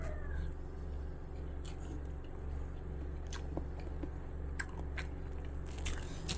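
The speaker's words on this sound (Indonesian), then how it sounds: "Kamu kalau makannya ini, aku makan sama genjer sama petai aja, Kunti." Someone chews genjer greens with petai beans close to the microphone, giving soft wet bites and crunches over a low steady background hum.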